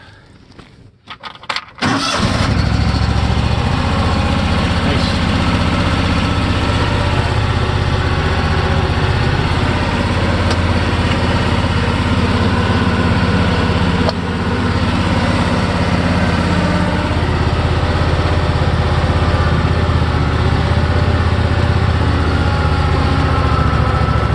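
A 46-inch single-stage snow blower engine catches after a couple of brief pulls and then runs loud and steady, close by and unbroken, with no talking over it.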